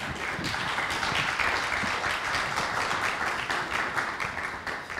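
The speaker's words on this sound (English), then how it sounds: "Let's give Zack and Jackson a round of applause." An audience at a film screening applauds, steady, dense clapping from many hands filling the room for several seconds before slowly thinning out.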